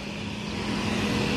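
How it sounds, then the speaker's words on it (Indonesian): A Hino front-engine intercity bus on the Trans-Sumatra road, heard at dusk as a loud, steady engine drone and road rumble that swells slightly as it goes by. "Hino itu lur, Hino mesin depan ya"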